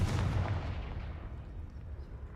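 A Confringo blasting curse goes off in the video game Hogwarts Legacy, one loud explosive boom at the start that fades into a long rumbling decay.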